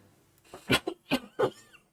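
A short series of three or four hoarse coughs close to the microphone, fairly quiet, with brief gaps between them.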